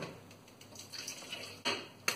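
A blender jar being rinsed out in a home kitchen sink gives faint clinks and light clatter over a steady wash of background noise, with a sharper knock near the end.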